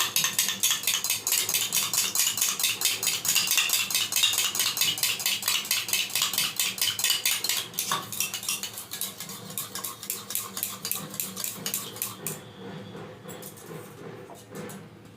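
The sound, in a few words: whisking eggs with a little salt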